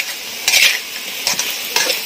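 Large green June beetles deep-frying in hot oil, a steady soft sizzle with three brief louder bursts of bubbling and stirring, close and alone with no voices.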